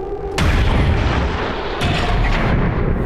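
A sniper rifle shot in the video game XCOM 2, a heavy booming report followed by a second loud blast and a rumbling tail, with no talking.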